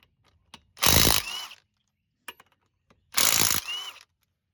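Ratchet wrench loosening the wheel bolts on a 2007 Cadillac DTS, two bursts of rapid clicking a couple of seconds apart with a few sharp metallic taps between, close and otherwise quiet.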